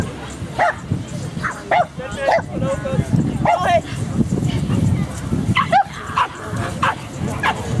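A dog yips, whimpers and barks in short excited bursts during a guard-dog training exercise, close to the microphone and mixed with ongoing talk and handler commands throughout.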